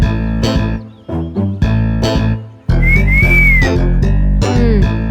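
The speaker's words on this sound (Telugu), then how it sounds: "ఇప్పుడేంటి విజిల్ వేయాలి అంతేగా?" A person gives a loud whistle, a bright sustained tone that swoops up and then down. Busy, loud tonal backing surrounds it and drops out briefly in short gaps.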